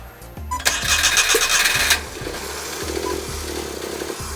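A Daihatsu Midget two-cylinder engine cranks, then fires up loudly and settles into a rough, rhythmic chugging idle with heavily retarded timing, close by with no voices.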